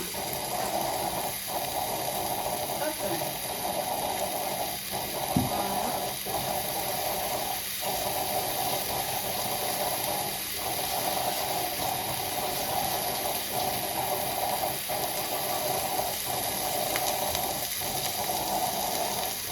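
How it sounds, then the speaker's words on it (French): Lentils rinsed under a running kitchen tap for dhal, a steady hiss of flowing water with faint periodic sloshing as the grains are swirled, no voices. "J'aime bien rincer quand même avant de consommer tout ce qui est riz, lentilles."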